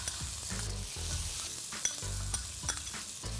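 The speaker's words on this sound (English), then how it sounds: "Let's add 1 medium-sized onion that's finely chopped." Finely chopped onion sautéing in melted ghee, a steady close sizzle and crackle with a few soft stirring scrapes throughout, no voices.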